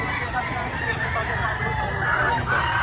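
Roosters and hens at a busy chicken market crow and cluck amid a low hubbub of voices and crowd noise, the birds close and fairly loud throughout.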